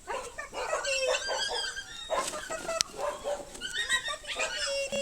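A seven-week-old puppy whimpers, yips and barks in short bursts at close range, with children's voices and play noise around it.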